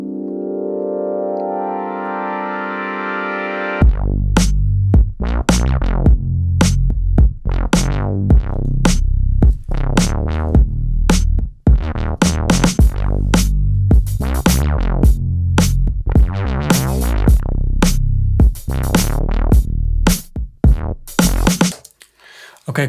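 A programmed drum beat processed with a DS-10 Drum Shaper plugin plays loud and punchy. Dense, fast kick, snare and percussive hits drive a steady rhythm for about twenty seconds after a sustained synth tone opens.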